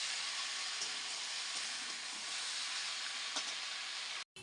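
Chicken pieces fry in a pan with a steady, close, crackling sizzle and hiss that runs evenly throughout, with no talking.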